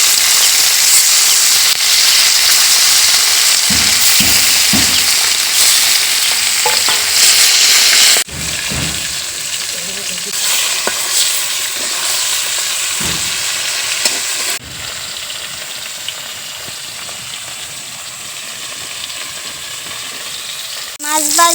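Pieces of tilapia fry in hot oil with a loud, continuous hissing sizzle and occasional stirring knocks, heard close up in several cut segments with no speech.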